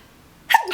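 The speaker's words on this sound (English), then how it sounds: "I really have to sneeze." A single short, sharp human sneeze bursts out close to the microphone after a brief quiet moment, followed by a breathy exhale.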